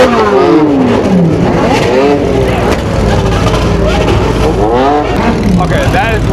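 Exotic V12 and V10 supercar engines rev hard at a late-night Los Angeles car meet, loud continuous roaring with rising and falling pitch sweeps as cars accelerate nearby, voices faintly mixed under the engine noise.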